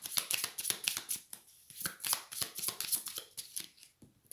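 Playing cards are shuffled and drawn, giving a dense run of crisp riffling flicks and snaps, close and fairly loud, with short pauses between bursts.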